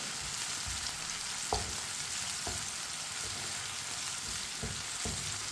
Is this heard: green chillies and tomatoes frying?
yes